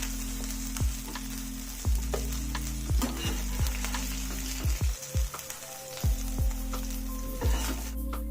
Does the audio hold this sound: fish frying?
yes